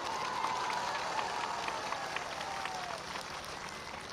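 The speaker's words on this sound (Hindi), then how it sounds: "यह सच हो तो ताली बजाइएगा" A large crowd at a political rally applauds steadily, a dense, continuous wash of clapping that stays even in level throughout, with no speech over it.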